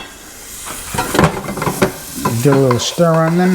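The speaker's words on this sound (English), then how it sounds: "let's get the onions in there" Onions sizzle in a hot pan over medium heat, with a steady frying hiss and stirring scrapes close by, as someone speaks briefly over the cooking.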